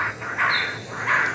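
Birds call in a tall Papuan rainforest at Raja Ampat, a couple of brief chirping calls rising over a soft, airy forest background.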